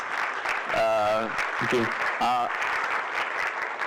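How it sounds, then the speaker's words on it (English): An audience applauds a speaker at a business talk, a dense, even roar of clapping throughout, with someone briefly speaking over it partway through. "I think Sam's deserve a round of applause, guys, at starters."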